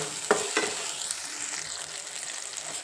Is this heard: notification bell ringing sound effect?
no